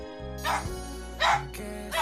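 A grieving 14-year-old dog that lost its mother lets out a few drawn-out, strained howls and whines, three separate vocalizations close by with pauses between them.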